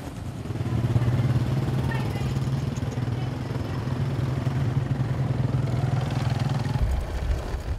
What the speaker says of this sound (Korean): 결국 오토바이로 이동하게 된 선교사들